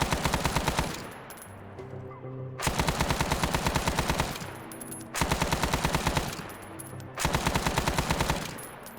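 Bursts of PK machine gun fire in Arma 3, four loud rapid-fire volleys of a second or so each, separated by short pauses where echoing tails and shell clatter ring out.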